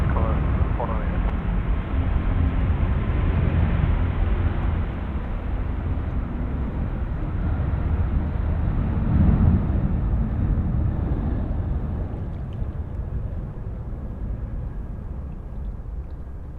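A heavy Qatar Airways jet takes off at night from Sydney Airport, a continuous low, rumbling engine roar heard at a distance that swells slightly around the middle and slowly fades.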